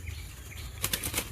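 A ring-necked parakeet in Sri Lanka flaps its wings close by in a few quick, brisk fluttering bursts over a quiet background.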